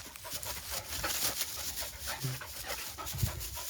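An excited dog pants rapidly and steadily up close, a quick continuous breathy rhythm with no voices over it.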